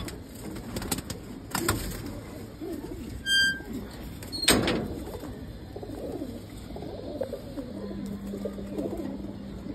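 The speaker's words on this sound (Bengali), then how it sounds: "সাদা কবুতর, অনেক ভালো ফ্লাই।" White pigeons coo softly at a pigeon market in Old Dhaka amid wing flutters and scattered clacks and bumps, with faint market bustle in the background.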